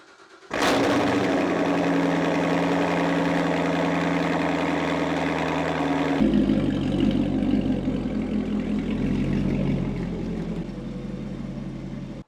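Supercharged LT4 V8 in a C7 Corvette Z06, fitted with a Nitrous Express supercharger lid, starts up and settles into a loud, steady idle. The rumble deepens and roughens partway through, then carries on unbroken with no voices.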